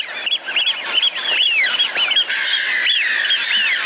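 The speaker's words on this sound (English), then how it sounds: "And finally the racket of the black-headed gull." A noisy flock of black-headed gulls squawks and cries continuously, harsh overlapping calls rising and falling, dense and close.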